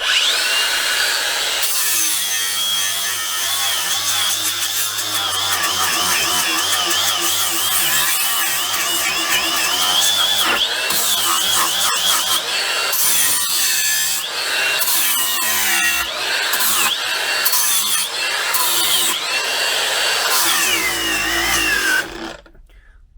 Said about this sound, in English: So let's go ahead and grind here.